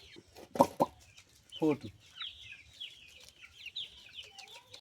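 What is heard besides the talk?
chickens clucking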